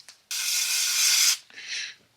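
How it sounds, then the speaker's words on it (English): Brake parts cleaner sprays onto the pod filter of a 1982 Yamaha 650 Seca in a loud, close hiss lasting about a second, followed by a shorter, softer spray burst. "We're going to start off with brake parts cleaner"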